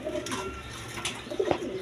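Domestic pigeons, a nesting pair sitting on eggs, coo softly nearby in a few low, rolling bursts over a quiet background.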